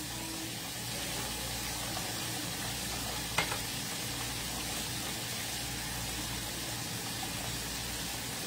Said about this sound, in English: The rice is boiling around nicely.